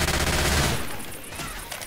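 Machine gun fire in a shooting video game, a dense burst of rapid shots at the start that trails off into a quieter, fading tail over about two seconds.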